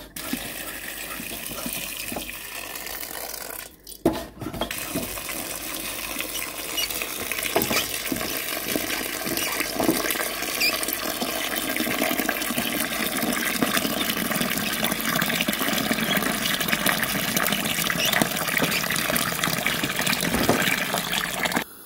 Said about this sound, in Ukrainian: І тепер заливаю водою, доведу до кипіння.